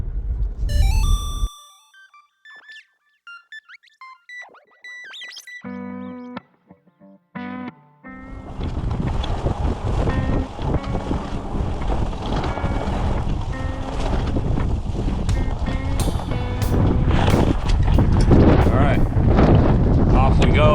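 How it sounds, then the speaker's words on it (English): A few short electronic tones, then strong wind buffets the microphone outdoors on an inshore fishing trip in a loud, continuous rushing roar that lasts to the end. "it's a little windy today"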